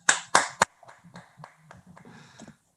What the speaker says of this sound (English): To clap your hands, everybody, he is the man.